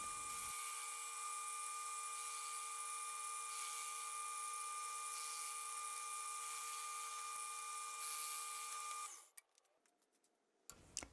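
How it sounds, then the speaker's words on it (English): Drill fitted with a bead cutting tool boring wooden beads, a loud, steady high-pitched whine held for several seconds, then dropping away into scattered clicks and light knocks. "using the holes for guides, drilled through until I felt the bead break free"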